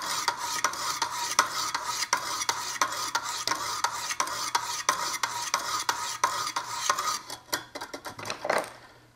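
A knife being sharpened on a 200 grit stone in a Wicked Edge sharpener, a fast, regular series of close rasping strokes that continues for about nine seconds, with no voices.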